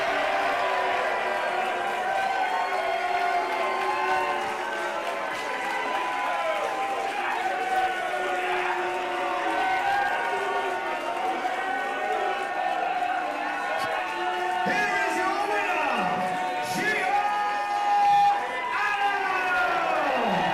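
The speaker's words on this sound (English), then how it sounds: "I'm just going to be quiet listening to this crowd." Wrestling crowd in an arena roaring after a women's match ends, a steady loud wash of cheering and whistles lasting throughout, with a few shouts rising near the end.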